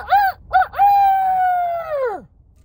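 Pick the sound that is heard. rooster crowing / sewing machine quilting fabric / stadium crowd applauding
rooster crowing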